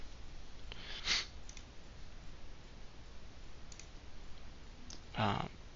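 Two crisp computer mouse button clicks, one near the start and a louder one near the end, with a few fainter ticks between them against a quiet background hiss.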